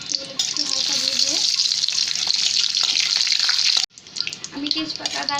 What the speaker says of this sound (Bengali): এখন আমি দিয়ে দেব তেজপাতা, দারচিনি এবং এলাচ। এগুলো একটু হালকা ভেজে